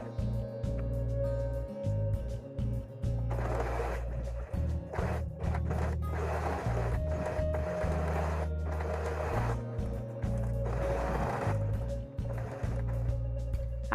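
A sewing machine runs steadily, straight-stitching two bra cups together along a half-centimetre seam for an underwire-style bra, its motor hum continuous and close with brief pauses and restarts throughout.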